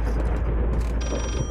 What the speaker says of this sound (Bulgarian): Пак ли някакъв телефон?